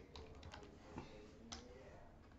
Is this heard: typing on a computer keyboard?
yes